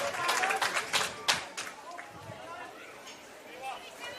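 A crowd applauding at a Belconnen United women's football grand final, a burst of scattered clapping and cheers from the stands that fades over a few seconds while a commentator talks over it.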